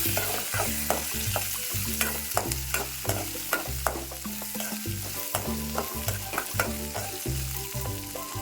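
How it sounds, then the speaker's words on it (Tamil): Onion and dried red chilies fry in a pan for pirandai chutney, a close, lively sizzle broken by repeated spatula scrapes and stirring clatter at a steady rhythm, with no voices. "அடுத்தது வெங்காயம் வரமிளகா காஞ்ச மிளகா எது வேணாலும் சொல்லிக்கலாம் ஸோ அதையும் ஆட் பண்ணியாச்சு நல்லா ஃப்ரை பண்ணி எடுத்துக்கலாம்"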